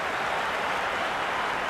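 A cricket crowd in the stands at a Big Bash T20 match between Sydney Sixers and Adelaide Strikers roars and applauds in a steady, dense wash of cheering.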